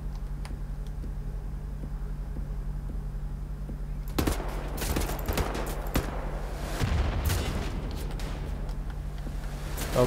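Missile explosions go off in the shooter game Wolfenstein: The New Order. A low, steady hum leads into a loud, dense stretch of blasts and rapid gunfire-like bursts that lasts several seconds.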